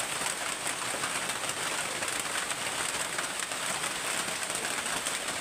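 Steady rain falls continuously, a dense hiss spread evenly across the clip with no pauses, loud and close as if pouring just outside a shelter.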